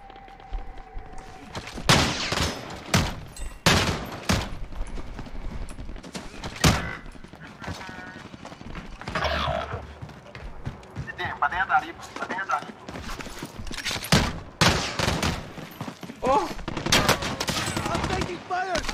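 Rapid Call of Duty video-game gunfire, repeated sharp shots and bursts crackling close and loud, mixed with excited voices talking over the firefight.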